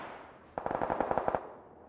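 A short burst of roughly ten rapid automatic rifle shots in PUBG, evenly spaced and close, starting after a quiet moment and fading into a soft tail.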